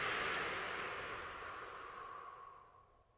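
A slow, soft exhale through pursed lips during qi gong breathing, a breathy airy hiss that starts close and gradually fades over about three seconds.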